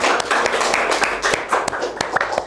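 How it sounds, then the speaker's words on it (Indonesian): An audience clapping, with sharp individual claps and uneven rhythm over a loose background of applause, fairly close. "Beri tepuk tangannya dong."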